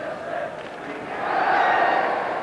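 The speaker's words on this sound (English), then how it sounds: "Once again, an all-ticket crowd at the Dell" Large all-ticket football crowd at the Dell stadium, Southampton, for a match against Liverpool, a broad roar of many voices that swells louder partway through and stays steady, distant and diffuse.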